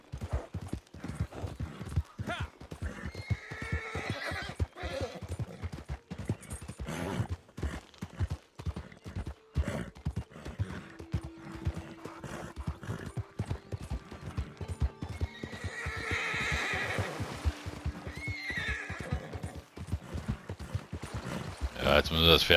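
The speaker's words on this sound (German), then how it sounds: "Jetzt müssen wir das Pferd mal langsam ein bisschen schonen hier." Horse in Red Dead Redemption 2 Online neighing and whinnying over steady clip-clop of hooves along a winding trail, continuous throughout at moderate level, with game ambience and someone talking now and then.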